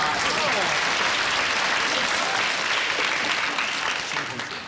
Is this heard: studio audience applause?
yes